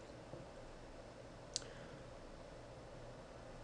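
A single faint mouse click on a web reporting tool, a short sharp tick midway through a quiet, hissy background.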